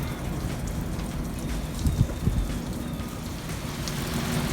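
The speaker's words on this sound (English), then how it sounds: "the amount of water that's just dripping, and it's drizzling out" Drizzling rain outside a greenhouse under construction, a steady soft patter with water dripping, a few louder drops near the middle over constant background hiss.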